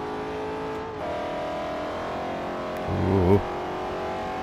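Engines drone steadily from sedans racing in Forza Motorsport 4, a sustained hum that briefly swells as a car revs harder near the end, with a short exclamation from a voice.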